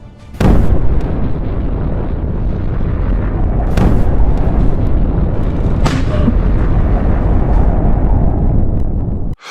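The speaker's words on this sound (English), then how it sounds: "A Russian artillery detachment moves into firing position and starts shelling Ukrainian positions in support of an advancing unit." Artillery shelling on the Ukrainian front, with a Russian artillery detachment firing, gives loud heavy explosions: three sharp blasts over a continuous rumbling roar that fills the whole stretch.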